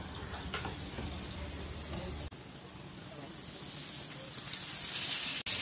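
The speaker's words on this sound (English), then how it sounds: "We can now fry the fish." Sole fillet frying in oil in a preheated pan: a steady, moderate sizzle with scattered crackles and pops, building slightly louder over time, with a sharp knock near the end.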